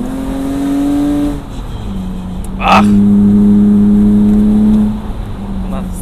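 A BMW Z4 E85 engine pulls under acceleration with steady rising harmonic drone, close and loud, easing off midway then surging again; a short exclamation cuts in briefly.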